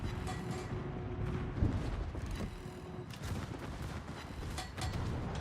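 Secondary guns on a warship in World of Warships firing in a dense, continuous barrage of overlapping booms and cracks, loud and close, with no clear breaks.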